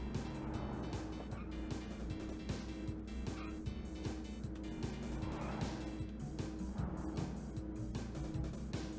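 Cars racing in the Nintendo 64 game Cruis'n USA: continuous droning game engine tones with rhythmic pulsing and bursts of tire screech, mixed with steady game audio throughout.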